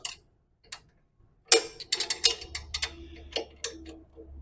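Short metallic clicks and ratchet ticks come close-up and moderately loud as the chain adjuster bolt on a 110-125cc ATV is snugged back up, irregular at first, then clustering into quick bursts.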